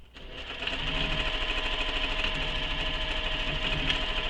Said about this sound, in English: So I'm just stitching back and forth.